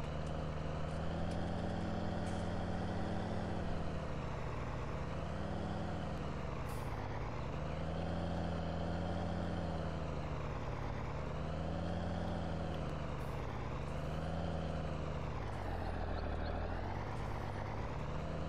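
Farming Simulator 19 MX-285 tractor engine droning steadily and loudly throughout, with a smooth continuous hum that rises and falls gently as it drives along, no talking over it.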